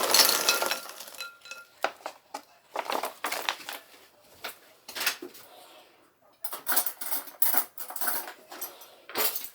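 Apples tipped from an opened bag into a bowl in a kitchen, heard as a run of close clinks, knocks and rustles in irregular bursts with short pauses between.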